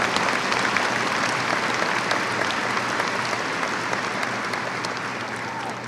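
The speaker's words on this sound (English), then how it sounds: "A round of applause for our students." Graduation audience at a high school ceremony gives students a steady, dense round of applause that holds evenly and eases slightly toward the end.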